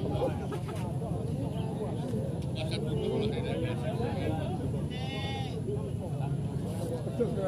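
Etawa goats bleat at a goat market in Pati, several wavering calls near and farther off over a busy crowd murmur and background noise, with people talking.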